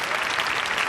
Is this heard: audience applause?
yes